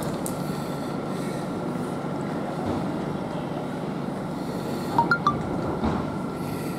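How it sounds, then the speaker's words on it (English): A CrossCountry Voyager train departing York station for Edinburgh Waverley, a continuous steady rumble of rolling stock with a few sharp metallic clinks and squeaks near the end, heard from the platform with no talk. "cross country voyager departs between York to Edinburgh Waverley."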